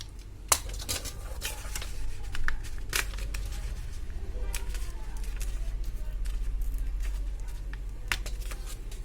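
Paper is cut into pieces with a cutter for a math activity, giving a series of sharp, close snips and rustles. A person speaks quietly in between.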